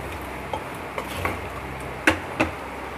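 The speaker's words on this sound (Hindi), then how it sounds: "और एक बार सब मसालों के साथ आलू को मैं मिक्स कर दूँगी अच्छे से" Potatoes are stirred with spices in a pot, with a spoon scraping and knocking against the metal in a few irregular clinks over a low background hiss.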